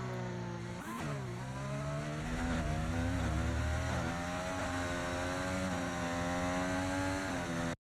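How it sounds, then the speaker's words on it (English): An Aston Martin Formula 1 car with a Honda engine screams through a racing video game in a sustained high-pitched drone, its pitch climbing and dipping as it shifts and accelerates, loud and steady with no talk. "The Aston Martin literally just sounds like the Honda engine now."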